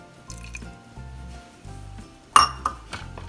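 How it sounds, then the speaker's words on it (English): A pressure cooker lid comes off a pot of dal with a sharp metallic clink and a rattle. A few softer knocks follow, all close by, over a low steady background hum. "Once all of the pressure is released, you will open the lid and add in the lemon juice"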